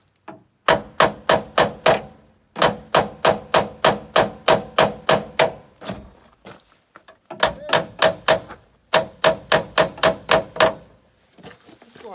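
Rapid series of sharp metallic hammer blows on a stubborn Jeep door bolt, in bursts of about a dozen strikes each, with short pauses between, loud and close.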